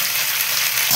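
Taro (kochu) frying in a pan, a dense, even sizzle heard up close without a break.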